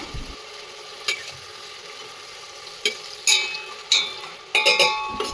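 Onions with salt fry in a pan for vegetable pulao, giving a soft steady sizzle broken by several sharp clinks and scrapes of a spoon stirring against the metal pan.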